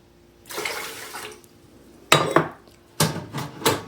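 Two cups of water poured into a pot holding a cup of rice for fried rice, a splashing rush followed by shorter bursts and clinks against the pot, close and alone with no talk.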